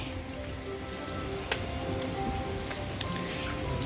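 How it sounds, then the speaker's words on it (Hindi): Steady patter of rain continues throughout with a couple of sharper drips standing out, fairly close and moderate in volume, with no voices. "और स्टिल बारिश हो ही रही है"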